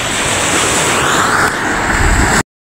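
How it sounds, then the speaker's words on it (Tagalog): Strong ocean surf crashing and washing continuously close by, loud and roaring with wind buffeting the microphone, cutting off abruptly. "Ngayon medyo malakas yung alon."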